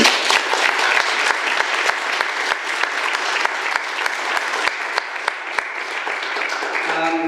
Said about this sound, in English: please give a round of applause for Ryan Babb.